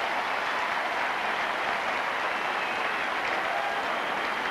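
Tennis crowd applauding at a match between Edberg and Henman after a set is levelled, a continuous dense wash of clapping from a large audience, loud and unbroken.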